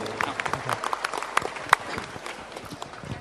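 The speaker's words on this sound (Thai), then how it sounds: "ขอเชิญทุกท่านให้เสียงปรบมือต้อนรับท่านอดีตนายกรัฐมนตรี" An audience at a public event applauds to welcome a former prime minister, loud dense clapping that builds and then thins out, with a voice heard in the mix.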